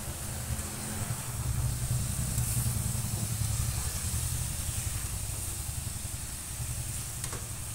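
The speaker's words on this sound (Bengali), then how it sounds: "এবার আমি ভালোভাবে কষে নেব আলুটাকে" Potato pieces frying in a pan with cumin and coriander powder, giving a steady moderate sizzle and hiss with soft, continuous stirring scrapes throughout, no talking.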